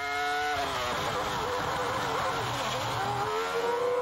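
Formula 1 race cars from McLaren and Ferrari at racing speed, a loud continuous engine scream with pitch sweeping down and up as cars pass close, sustained for the whole stretch.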